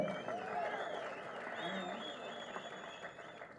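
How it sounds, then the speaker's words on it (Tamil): Audience applause at a Tamil film audio launch event, a steady wash of clapping lasting the whole stretch, with crowd voices and whistle-like tones mixed in. "அதுக்கு ஒரு பெரிய கைத்தட்டில் கொடுங்க"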